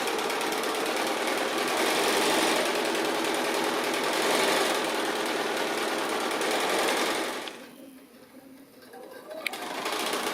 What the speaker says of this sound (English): So I'm just sewing down either side of this strip that we folded in for the handle and the little tab.